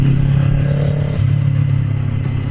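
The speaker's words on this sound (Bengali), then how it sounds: "এই ভাই চলে যাচ্ছে নিনজা নিয়ে" A Kawasaki Ninja motorcycle rides past with a steady, close, rumbling engine drone that holds for a couple of seconds.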